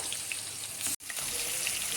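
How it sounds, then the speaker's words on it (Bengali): Fish, rubbed with salt and spices, fries in hot oil over a stove, giving a steady dense sizzle with crackling pops that runs throughout and breaks off for a moment midway. "সবার আগে আমি মাছটা ভেজে নিচ্ছি।"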